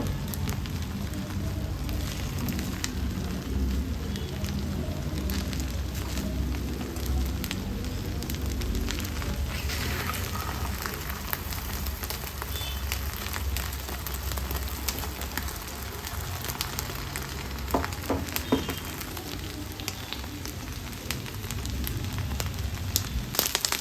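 Thick egg pieces fry in a pan for an egg chilli dish, giving a steady, even sizzle with fine crackling and spitting that carries on close and continuous with no break.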